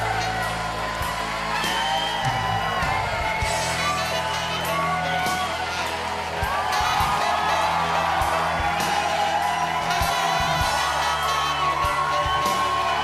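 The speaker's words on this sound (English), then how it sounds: "Everybody want to clap." An audience at the end of a live show cheers, whoops and yells in a dense, continuous roar of voices with scattered shouts, a steady crowd sound throughout with a few voices standing out.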